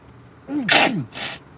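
A single loud sneeze up close, a rising inhale followed by a sharp burst and a second softer exhale.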